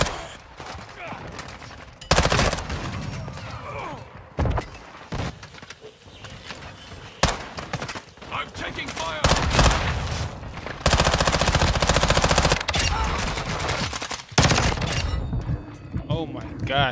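Rapid gunfire in a first-person shooter match on the Shipment map, with dense, loud bursts of automatic fire and single shots coming in clusters, separated by quieter gaps where a player talks.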